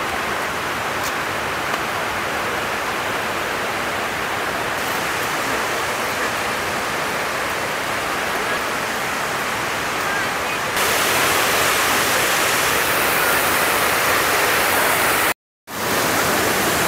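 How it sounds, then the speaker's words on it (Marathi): Heavy water from Thoseghar waterfall makes a broad, continuous roar heard from the top of the falls. The rush is loud and unbroken, steps up slightly late in the clip, and briefly cuts out near the end. "हा धबधब्याचा टॉप पोर्शन आहे। आपण पाहतोय धबधब्याचा हा टॉप आहे।"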